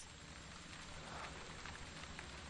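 Steady rainfall pattering on surfaces, a soft continuous hiss of drops with no breaks, fairly faint and even throughout with no voices over it.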